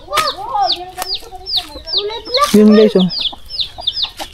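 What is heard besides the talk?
chickens clucking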